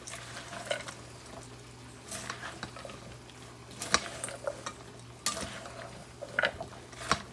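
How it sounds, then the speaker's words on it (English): A utensil stirs mayonnaise into a salad in a bowl, giving soft scraping and intermittent light clinks against the bowl. The sounds come in scattered bursts over a low steady background hum, with no talk. "We'll stir it up and see how it looks."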